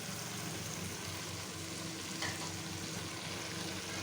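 Chopped ground shrimp frying in a pan with squash, a steady close crackling sizzle with faint stirring, continuous and without talk.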